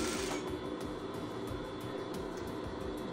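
A sewing machine backstitches doll clothes for a reborn baby doll, with a fast, even mechanical clatter of needle strokes running steadily and close but at low volume, with no talk.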